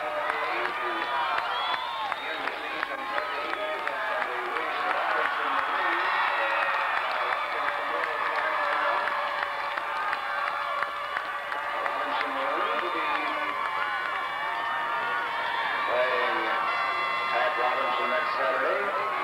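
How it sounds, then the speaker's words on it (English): A crowd of high school football fans cheers through a 1991 state 3A playoff game, a sustained, fairly loud roar with shouts and applause, while a commentator talks over it. "And you see a lot of cheering."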